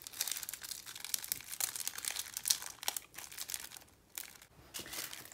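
Plastic packet of diamond painting drills crinkles and rustles in the hands, with continuous close, fairly quiet crackling that swells and dips as the bag is handled.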